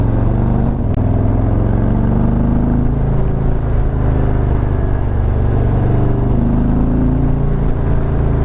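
A 2017 Harley-Davidson Milwaukee-Eight motorcycle pulls hard under acceleration, giving a loud, steady, close engine drone that rises in pitch, mixed with wind noise and no talking.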